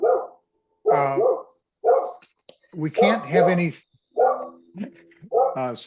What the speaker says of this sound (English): can someone mute their dog, please?